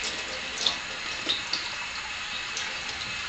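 Tap water runs steadily into a container being rinsed out at a sink, with a few soft knocks and splashes as it is handled nearby; no one speaks.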